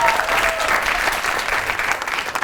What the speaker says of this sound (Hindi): एक भरपूर ताली बजाइए